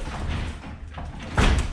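A garage door's emergency release cord is pulled down, producing a brief rustling scrape and then a solid, fairly loud clunk as the opener mechanism disengages, with no talking during the sound.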